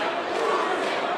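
A large stadium crowd at a boxing event in Wembley Stadium chants a fighter's name, a dense, roaring wash of many voices filling the brief moment at steady loudness.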